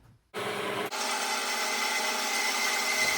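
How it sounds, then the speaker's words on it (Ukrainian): A Kraft&Cele KD1734 band saw, set to 45 degrees, cuts a 25x25 mm metal profile: after a short silence the machine starts abruptly, then a loud, steady, bright grinding whine continues without pause. "Будемо різати профіль 25 на 25, двоєчка."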